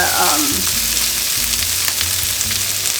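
Sauce hits a hot pan of tofu stir fry, setting off a loud, steady sizzle and crackle that carries on throughout with faint stirring underneath.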